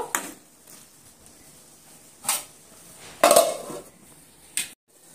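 Pumpkin and potato fry being turned in a pan, heard as a few separate metallic scrapes and clinks of a spatula against the pan over a faint background, the loudest near the middle.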